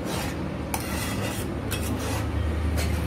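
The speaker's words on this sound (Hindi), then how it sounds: "और सूजी डालने के बाद फिर हमें इसे छोड़ना नहीं है, एकदम ऐसे चलाते रहना है धीरे धीरे हाथ से।" Semolina being stirred slowly by hand in a pan while making coconut laddoos, a continuous gritty scraping and rubbing of spoon against metal with a few sharper clinks, steady and close.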